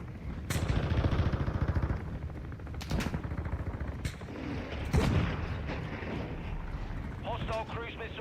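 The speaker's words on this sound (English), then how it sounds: "Our mortar strike is inbound." Mortar strike explosions in the Call of Duty Modern Warfare II video game, several heavy booms and bursts of rapid gunfire crackling in a dense, continuous battle mix, with game announcer voice lines mixed in.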